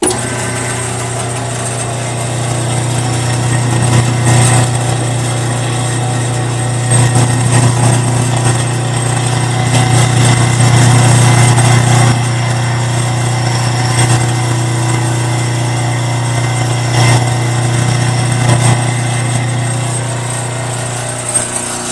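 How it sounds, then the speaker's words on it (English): An old Delta bandsaw motor hums steadily for about twenty seconds, loud and close, with a fence back clamp rattling on top of the constant drone. "I'll run the motor so you can see what the motor looks like."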